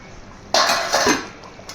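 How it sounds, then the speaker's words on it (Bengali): A lid lifted off a pot of simmering desi chicken and potatoes, giving a sudden close metallic clatter and rattle that rings briefly and then fades to quiet. "এবার আমি ঢাকাটা খুলে দেখাচ্ছি"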